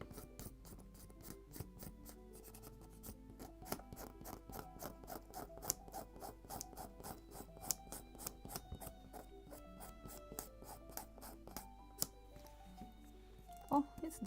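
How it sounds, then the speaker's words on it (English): A hand scraper works dried glue off the wooden bulkheads of a 1:76 Mayflower model ship kit, with quick repeated scraping strokes in a steady rhythm, close but fairly quiet, while someone talks. "And I can start with the scraper. So essentially the glue will stay only in the gaps."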